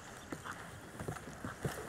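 Horse hooves clip-clopping at a steady walking rhythm in the video game Red Dead Redemption 2, moderately close and repeating over a soft continuous background bed.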